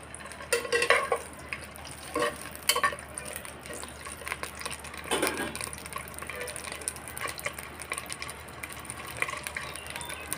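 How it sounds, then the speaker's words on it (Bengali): Boiled, peeled eggs frying in mustard oil with salt, a soft continuous sizzle at moderate distance, broken by occasional scraping stirs and light clicks of a utensil against the pan. "ডিমগুলো আমি একটু লবণ দিয়ে ভেজে নিই"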